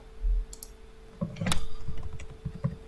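Computer keyboard keys pressed in a few quick clicks and taps during game testing, close but sparse, with a steady faint hum beneath.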